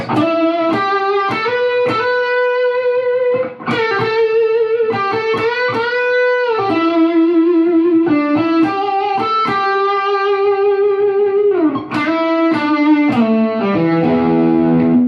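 A distorted electric guitar plays a sustained, singing lead line alone, long held notes wavering with pronounced, expressive vibrato between quicker bends and runs.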